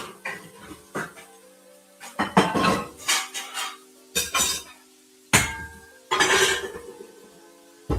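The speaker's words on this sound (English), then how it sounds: "I think this is called a colander" A kitchen colander knocks and clinks against dishes in bursts of sharp rattling and metallic chinks separated by short pauses, close and fairly loud.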